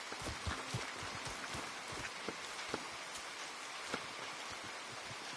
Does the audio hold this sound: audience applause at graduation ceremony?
no